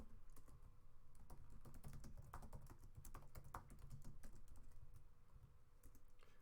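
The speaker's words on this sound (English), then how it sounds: "I'm struggling with the typing today, as you might see." Fast, uneven typing on a computer keyboard, with dense clicky keystrokes running steadily throughout at close range over a low background hum, no voices.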